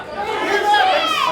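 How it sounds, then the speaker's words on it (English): A crowd at a wrestling show makes excited noise, with many voices chattering and calling out together in a loud, lively swell across the short stretch. "I'm just excited about how hot the crowd is for this one"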